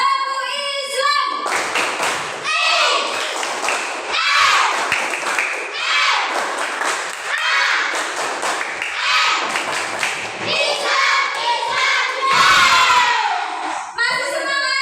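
A group of children claps a rhythmic Islamic clapping chant in a classroom, loud bursts of hand claps mixed with shouted chanting voices across about fifteen seconds.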